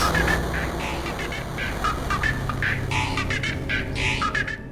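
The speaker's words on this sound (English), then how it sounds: "So how does this one sound with the rubber ducky?" A rubber ducky in the Sprunki video game gives repeated squeaky, honking quacks in short bursts, loud and close over a steady game backing track.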